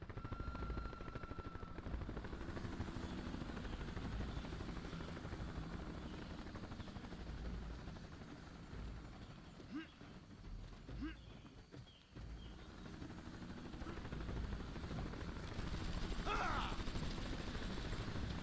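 A helicopter in the video game Marlow Briggs, a continuous low rotor drone held steady at moderate level with faint game effects scattered over it.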